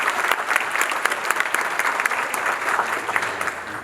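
A banquet audience at an annual membership meeting gives a round of applause, with dense, lively clapping and sharp individual claps throughout, sustained at an even level.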